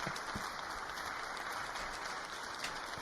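Sustained applause from Congress during Trump's address, a broad, far-off roar of many hands clapping at constant level with no voices over it.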